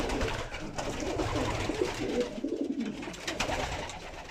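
Racing pigeons coo in a loft, several soft, throaty repeated coos overlapping close by, with light rustling and faint background noise, no talking.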